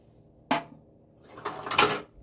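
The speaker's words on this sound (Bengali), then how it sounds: "এবার এটাকে আমি ভালোভাবে মিশিয়ে নিচ্ছি।" Malpua batter of water and milk being mixed in a bowl: one sharp clink of utensil against the bowl, then a short burst of rapid scraping and whisking strokes, close by with no speech.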